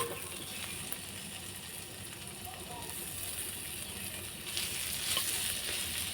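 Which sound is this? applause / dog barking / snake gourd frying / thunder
snake gourd frying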